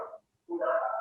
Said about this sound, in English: You may be hearing some dogs